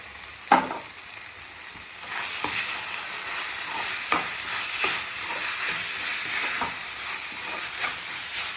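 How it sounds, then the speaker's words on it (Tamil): Chopped onions and tomatoes sauté in a pan for a goat leg gravy, with a steady broadband sizzle and a few sharp stirring scrapes standing out over it, close and fairly loud, with no talking. "நல்லா இது மாதிரி வதக்கிக்கணும்"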